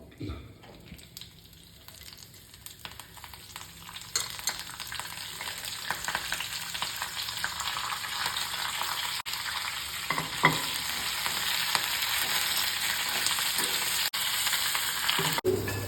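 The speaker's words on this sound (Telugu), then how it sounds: "పోపు తీసిన బాండీలోనే వామాకు బాగా వేపుకోవాలి" Continuous sizzling of carom leaves frying in a pan, growing louder after the first few seconds, with occasional scrapes of stirring.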